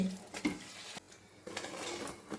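Luchi deep-frying in a pan of oil gives a faint, steady sizzle with a few light clinks of utensils against the pan.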